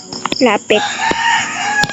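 A Roblox video-game chicken clucks and crows in several quick bursts, close and fairly loud, over a faint steady electronic hum.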